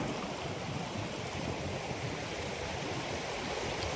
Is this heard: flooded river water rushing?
yes